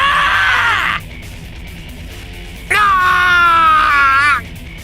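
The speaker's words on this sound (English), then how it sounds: "A blood-curdling scream, punctuated, sound of metal slicing through flesh." Two long, shrill, blood-curdling screams ring out loud and close, the first fading after about a second and the second, higher and strained, held for nearly two seconds.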